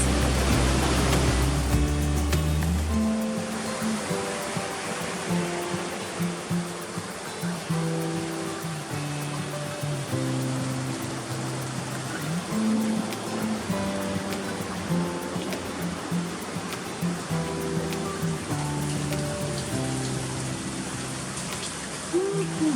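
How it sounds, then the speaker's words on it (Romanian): Warm water pours down from above inside a cave, a steady broad splashing rush that fills the space and echoes faintly, with low indistinct murmurs underneath. "Curge apă de sus caldă."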